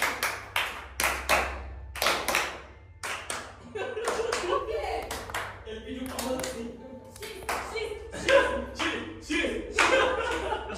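Bursts of hand clapping in several quick rhythmic groups, with chuckling and a voice talking between the claps.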